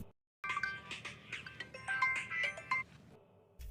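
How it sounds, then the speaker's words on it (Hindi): A phone ringtone plays loudly after a moment of silence, a bright chirpy melody with fluttering notes that continues steadily. "भाऊ आपका फोन।"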